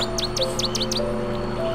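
A chick gives a rapid run of about five sharp, high peeps, then a few fainter chirps, over a steady low background hum.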